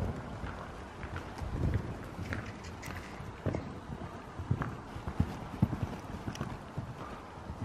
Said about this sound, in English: This is our new horse, Long John Storm.